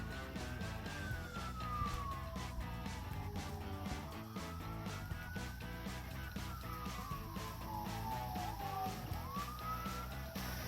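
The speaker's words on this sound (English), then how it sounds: "I've been hearing sirens for a while." Sirens wail faintly in the distance on the Appalachian Trail between Bear Mountain, New York and Great Barrington, Massachusetts, rising and falling slowly over a constant background rumble.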